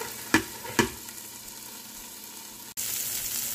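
Red and yellow bell peppers fry in a wok for vegetable fried rice, making a steady close sizzle with two soft knocks early and a brief clunk before the hiss swells louder.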